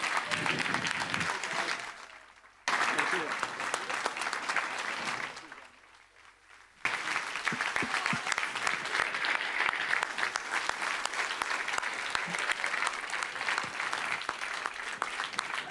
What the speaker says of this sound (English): let's give them all over there a huge round of applause for keeping us safe